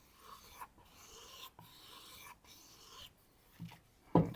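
A knife being ground on a sharpener, several slow rasping strokes separated by short gaps, fairly quiet and close, ending with a louder knock.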